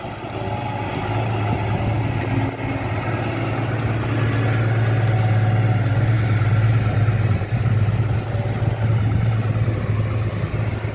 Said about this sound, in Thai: เครื่องยนต์นี่หกสูบนะครับตัวนี้หกเจ็ดอีหนึ่งนะครับ